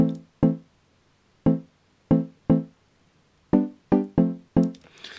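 Logic Pro Wooden Bells mallet instrument played dry, without processing: a sequence of nine crisp, woody struck notes in an uneven melodic rhythm, each with a quick attack and short decay, clear and alone.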